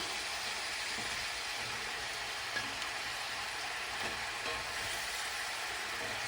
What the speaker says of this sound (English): Let it cook down a little bit and add some more cabbage. Kind of stir it up.